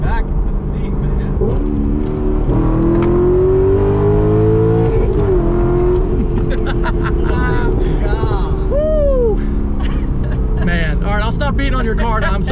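A car engine revs hard and climbs through the gears, loud and close, with people talking excitedly over it.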